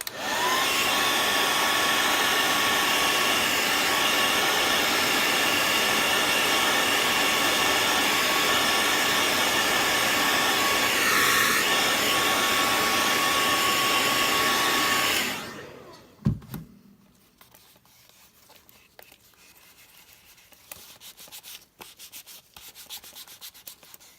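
A heat gun blows hard and steady with a loud airy roar while heating a leather knife sheath, running for about fifteen seconds before it is switched off with a click, leaving quiet handling noises.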